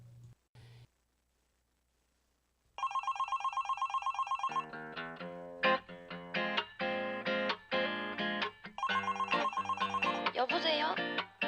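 Telephone ringtone inside a Korean pop song, a bright repeating electronic ring that plays in bursts between sung phrases over the music, loud and close.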